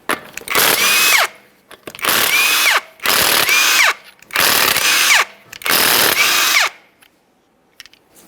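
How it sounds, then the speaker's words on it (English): Power impact tool spinning off 19mm lug nuts from a 2013-2020 Ford Fusion front wheel, five loud, close bursts of about a second each with a rising whine, separated by brief pauses, no talk. "To remove your wheel, you have 5 19mm lug nuts. We'll get those out of the way"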